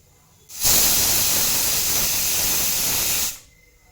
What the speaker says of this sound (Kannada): ಕುಕ್ಕರ್ ಒಂದು 3 ವಿಷಲ್ ಬರೋ ತನಕ ಕೂಗಿಸ್ಬೇಕು.